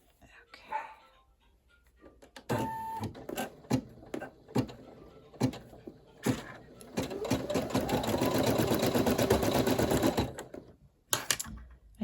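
A home embroidery machine stitches a monogram onto a minky lovey with a silk back. It starts with a few sharp clicks, then settles into a loud, steady, rapid mechanical rhythm for several seconds before stopping, with a brief clack at the end.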